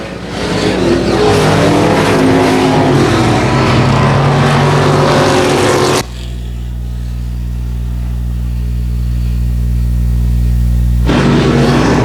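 Dirt track race cars roar together at night on the final lap, a loud continuous engine howl for six seconds, then a lower steady drone, then the full roar returns at the end.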